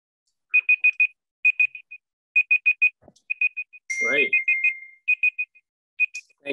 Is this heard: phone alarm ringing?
yes